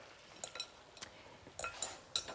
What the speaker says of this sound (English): And I'm gonna stir that in and just heat those tomatoes through